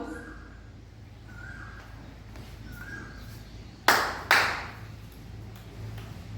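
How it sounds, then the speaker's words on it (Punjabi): Children in a classroom clapping for a counting game, two sharp hand claps close together, with faint tonal sounds before them. "ਦੋ ਤਾੜੀਆਂ ਸ਼ਾਬਾਸ਼ ਦੋ ਤਾੜੀਆਂ ਤਿੰਨ ਚੁਟਕੀਆਂ"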